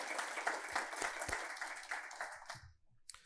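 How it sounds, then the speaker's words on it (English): Audience at an awards ceremony gives a short burst of dense applause that fades out after a few seconds. "Lots of claps going out to everybody."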